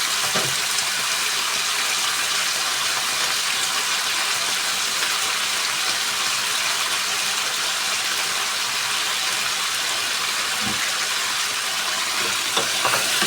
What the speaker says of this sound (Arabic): شوف بس الزيت اتقدح ولا لا كده. اخد تشويحه من الفراخ.